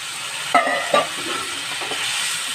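Tomato and the boiled bottle gourd water hit a pan of bottle gourd and potato curry, two sharp splashy bursts followed by a continuous close sizzle and faint stirring, with no voice.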